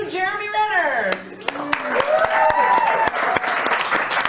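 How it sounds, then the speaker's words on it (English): Scattered clapping from a press conference audience for Captain America: Civil War rises under a camera shutter clicks-like patter, with people talking and a voice sliding up and down over the claps. "we don't have to clap"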